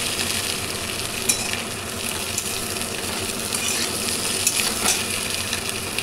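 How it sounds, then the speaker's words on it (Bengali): Taro and eggplant frying in hot oil for a hilsa fish curry, a steady close sizzle with crackling spits throughout, no voices. "এবার সমস্ত কিছু আমার হালকা করে ভাজা হয়ে গেল"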